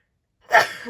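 A single sharp sneeze bursts out after a moment of silence, followed by a brief breathy tail.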